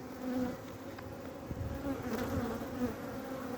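Honeybees buzz steadily at a hive in early February while feeding on stored capped honey, a continuous close droning hum with small shifts in pitch and no voices.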